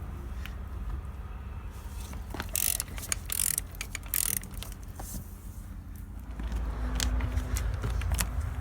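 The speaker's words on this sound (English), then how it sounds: "in my case, you just like to use an impact gun like this" An impact gun works the wheel nuts off the front of a 2013 Renault Master 2.3 dCi during a brake disc and pad job, with rattling mechanical bursts and ratcheting clicks close by, followed by a steadier low hum.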